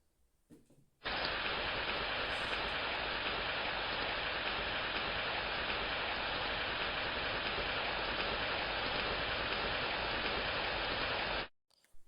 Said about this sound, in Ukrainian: спочатку мені треба на землю пролитись дощиком